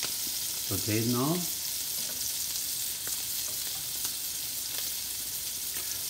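Scallops sizzle steadily in a hot pan, a constant close frying hiss with faint stirring clicks, while a voice speaks briefly over it near the start.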